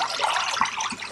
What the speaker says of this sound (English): So obviously this person keeps himself clean using this sink and that water.